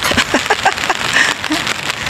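Rain falls outdoors near Kyoto Station, a close, crackling patter of drops on a surface with uneven bursts and scattered splashes.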